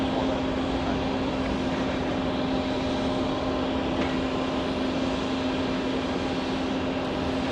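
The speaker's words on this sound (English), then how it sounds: "Delta 1253 heading to Minneapolis, a 767-400" A Delta Boeing 767-400 airliner at JFK airport gives a steady, loud jet roar with a constant engine whine, unbroken and close for the whole stretch.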